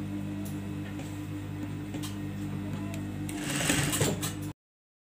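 Sewing machine stitching a zipper onto an abaya, a steady motor hum with fine ticking needle strokes that build slightly louder near the end before stopping abruptly.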